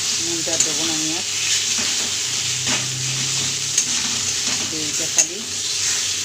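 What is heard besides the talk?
taro greens and hilsa fish head stir-fried with spices in pan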